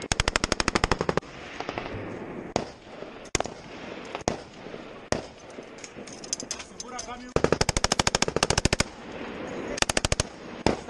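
Bursts of SAW light machine gun fire in combat, rapid loud rattling volleys separated by single sharp shots and pauses, with shouting voices between bursts.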